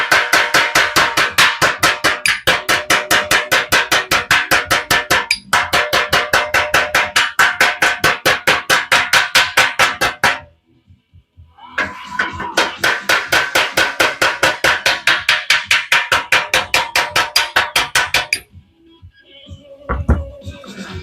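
Rapid, steady metallic tapping of a small hammer on sheet metal of a 1967 Mustang, continuous bursts with two brief pauses, close and fairly loud.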